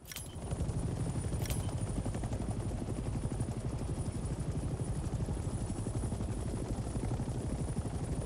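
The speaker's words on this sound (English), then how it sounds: "We are now airborne. Let's get familiar with the 3 primary helicopter rotations: pitch, roll, and yaw." Helicopter in flight in the Vietnam-era game Hell Let Loose Vietnam: a loud, steady rotor and engine drone with a rapid chopping pulse, continuous throughout, with a couple of sharp bursts near the start.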